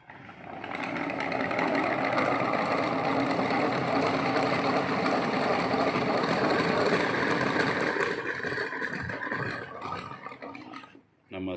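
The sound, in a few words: honey extractor machine spinning honeycomb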